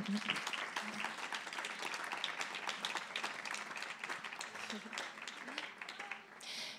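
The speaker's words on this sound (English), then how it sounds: "maybe an applause for the three who came here to join the discussion" Steady applause from a panel discussion audience, a dense patter of many hands clapping at a distance, with faint voices underneath, fading near the end.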